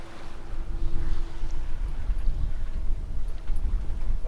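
A sailboat tacking up a channel in the Kyles of Bute, Scotland. Steady wind noise and low water rush against the hull run throughout with no talk.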